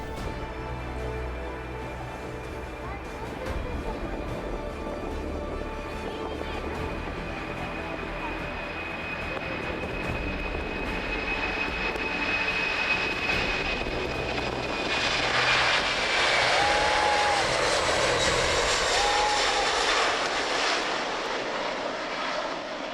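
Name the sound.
Boeing 747 jet airliner taking off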